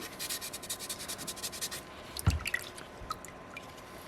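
Sandpaper rubs over a small soapstone wolf carving in quick, even back-and-forth strokes. A single soft knock follows, then lighter, scattered scraping, all close and fairly quiet.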